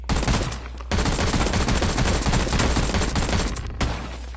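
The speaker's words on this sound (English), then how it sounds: "Oh God, someone's shooting at me." Gunfire in a PS4 video game: a dense, loud barrage of rapid automatic shots fills almost the whole stretch, with two brief breaks in the firing.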